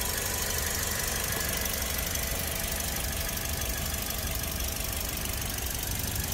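Toyota Vios E 2019 with a 1.5 engine idling, a steady even hum with faint ticking, close and continuous with no talk.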